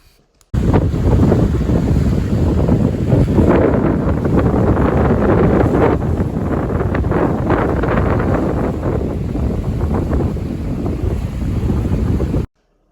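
Strong wind roars steadily across a Yukon lake during a fly-in moose hunt, a loud, continuous buffeting rush with gusty surges against the microphone and lapping water beneath, no voices.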